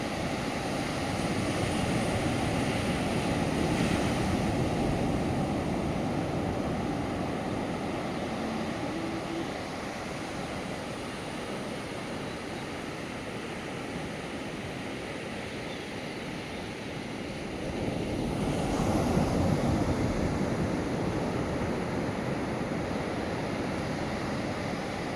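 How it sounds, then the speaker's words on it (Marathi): Sea waves breaking on a quiet private beach in Goa, a steady broad wash of surf that swells louder near the end, with wind rumbling against the microphone throughout. "हा गोव्याचा सागरी किनारा आहे"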